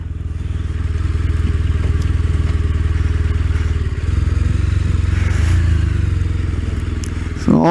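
A 2016 BMW R1200RS boxer twin idles loud and close with a rapid, even thumping pulse, briefly rising and settling before a closing clatter and thump.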